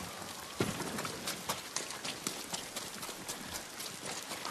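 Horse hooves clop in Ghost of Tsushima, with a steady galloping rhythm of soft, evenly spaced hoofbeats over about four seconds. The sound is fairly quiet, under faint ambient noise.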